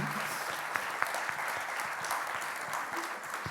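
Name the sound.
audience applause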